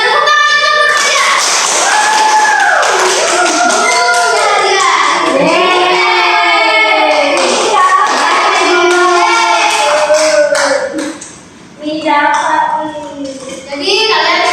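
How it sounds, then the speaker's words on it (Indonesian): Schoolchildren in a classroom clapping together in a rhythmic pattern while chanting loudly, the clapping and voices continuous, with a brief pause near the end before resuming. "Tepuk tangan untuk hadiah."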